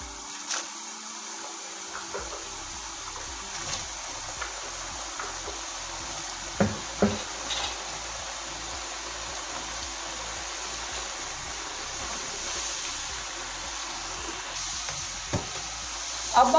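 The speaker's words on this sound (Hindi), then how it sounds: "ऑयल को हम अच्छे से गर्म कर लेंगे और अब इसके अंदर डालेंगे चिप्स।" Cornflour-coated potato chips fry in hot oil, making a continuous bubbling hiss with a few sharper clicks and knocks over it, and no voices.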